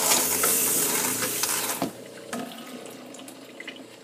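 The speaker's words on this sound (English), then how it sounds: "Open up a water faucet till all the antifreeze is pumped out of the hose." An RV water faucet runs while antifreeze is pumped through the plumbing during trailer winterizing, a hissing spray that is strong at first and then cuts back to faint trickles and drips.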